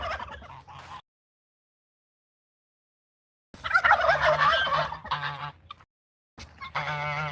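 Farm turkeys gobbling loudly in bursts of rapid, rattling calls, with a long silent gap between the first short burst and the later louder ones, heard close by outdoors.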